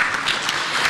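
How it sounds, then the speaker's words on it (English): Applause from the audience at a parliamentary conference on family and values, a brief dense burst of many hands clapping, loud and steady throughout. "Let's applaud her, please."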